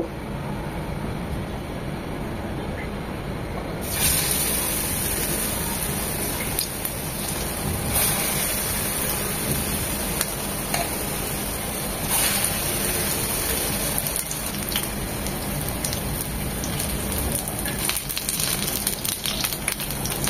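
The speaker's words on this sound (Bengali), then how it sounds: "এবার ফুলকপিগুলি ভাজবো।" Cauliflower pakora sizzling in hot frying oil over a medium-low flame, a steady dense crackle and hiss that holds evenly throughout, close and continuous with scattered sharper pops.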